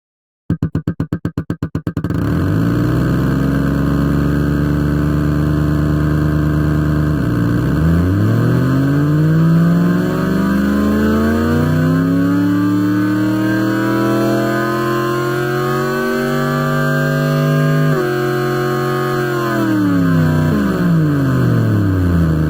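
Synthesized V8 engine built from a piston-shot sample in FL Studio, a continuous loud rumble that revs up and down in pitch through several sweeps, starting after a brief burst of sharp stuttering hits.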